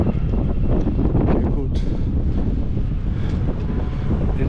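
Steady, loud wind buffeting the microphone outdoors in a town centre, continuous and roaring throughout with a person talking underneath.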